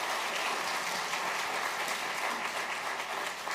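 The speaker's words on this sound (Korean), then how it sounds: "여러분 그동안 수고하신 우리 은퇴자들에게 뜨거운 박수로 격려해 주시기 바랍니다" A church congregation at an ordination and retirement service applauds warmly for retiring elders, deacons and kwonsa, a dense continuous clapping from many people that lasts the whole stretch without talk.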